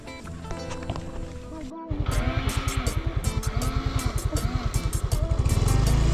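Motorcycle engine idling then running with a rapid, even putter of firing pulses, close and fairly loud, gradually rising toward the end.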